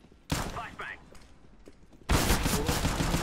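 Gunfire in Counter-Strike during a competitive match: a short burst of shots early on, then a sustained loud volley of rapid gunfire filling the final second, with a player talking over the action.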